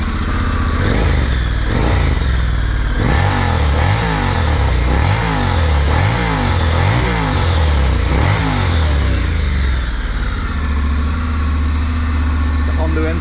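A Honda NC750X DCT motorcycle engine revs in a run of about eight quick, evenly spaced blips over a low idle, then settles back to a steady rumble. The machine is loud and close, and a voice talks over part of it.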